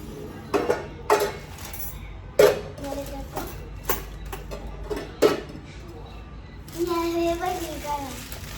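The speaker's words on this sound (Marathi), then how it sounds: "आता करूया भांडी घासायला सुरुवात." Dishes, pots and steel utensils being washed at home, with sharp clinks and clanks in scattered bursts close by and a running-water wash toward the end, voices talking between the knocks.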